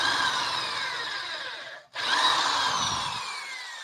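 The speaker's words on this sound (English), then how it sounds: "It's a drill." A power drill whirs loudly and steadily, briefly stopping before spinning up again and running on.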